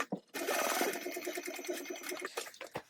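Sewing machine stitching a 3/8 inch seam on a Yoshi sling, a rapid mechanical needle chatter starting after a brief pause, running steadily and then slowing into a few spaced stitches.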